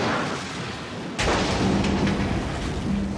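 A refinery storage tank explodes in a single sudden deep blast that breaks over a low rumble, then rolls on as a loud, sustained roar with no voices.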